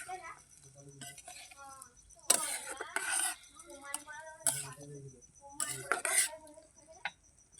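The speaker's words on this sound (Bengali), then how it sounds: "এইভাবে নেড়ে চেড়ে নেবো।" Fried eggplant being stirred in a pan for a mustard eggplant dish, with repeated metallic scraping and clinks of a spatula against the pan in uneven bursts, fairly close.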